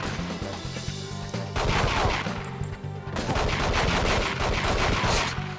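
Gunfire in the James Bond shooter game The World Is Not Enough, rapid bursts of automatic shots in dense, loud clusters with brief gaps between volleys.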